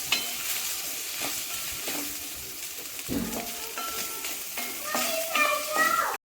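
Khapli wheat sautéed with grated coconut and hot water in a pan, giving a steady close sizzle with repeated scraping stirs of a spoon, while children's voices and other speech carry faintly in the background.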